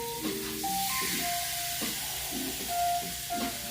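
Pork chops sizzle steadily in a hot pan for bourbon glazed pork chops, a constant close hiss with faint tonal squeaks and clinks over it, no talking.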